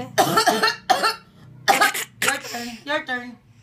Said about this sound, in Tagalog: Umuubo talaga siya, te.